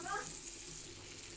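Onions frying in hot oil in a pan after dried fish, with a steady hissing sizzle throughout, fairly loud and continuous with no talk.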